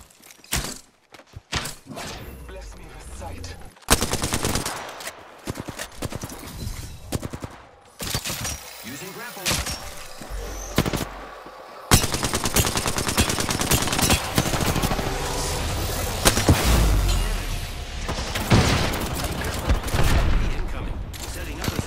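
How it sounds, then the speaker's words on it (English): Automatic and rapid gunfire in the Apex Legends battle royale game, with dense bursts and sustained fusillades close by, plus footsteps and mechanical clunks between volleys. "Opening fire on the enemy."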